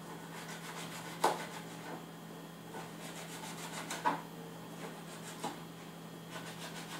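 A knife slicing a small piece of bacon for ground beef, quiet soft rubbing and scraping strokes with a few sharper cuts, close and alone over a low hum.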